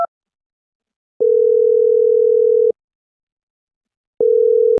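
A telephone ringback tone sounds as a loud, steady electronic beep lasting about a second and a half, followed by a pause and a second identical beep.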